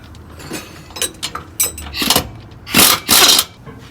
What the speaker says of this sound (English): now I'm going to tighten up the pinch bolts